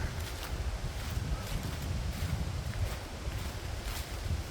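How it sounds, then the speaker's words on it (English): A cold October wind blows steadily on a hiking trail, a continuous low buffeting rumble against the microphone with faint rustling throughout. "that wind's cold"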